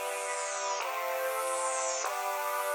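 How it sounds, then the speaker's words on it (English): An Electra synth preset plays chords as a layer in FL Studio: bright, buzzy sustained chords shift twice with a short attack at each change. A falling shimmer sweeps across the top, heard clearly and alone. "which is coming from Electra. It's a preset and it sounds like this."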